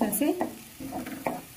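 Tomato paste stirred into ginger garlic paste in a pan for paneer butter masala, with soft scraping strokes and light sizzling up close, heard alone in short uneven movements.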